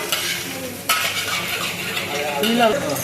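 Cooked rice scraped and stirred around a hot frying pan during a fried rice cooking class, a steady sizzle with metal spatula scrapes and clinks, close and continuous.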